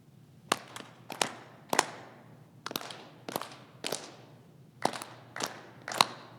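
Masonic honors of three times three: sharp, distinct hand claps land in three groups of three with pauses between, crisp and fairly close in a quiet hall.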